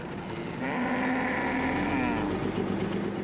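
Cattle herded by nomadic farmers on the West African savannah give a long, drawn-out moo, loud and close, over a low background rumble.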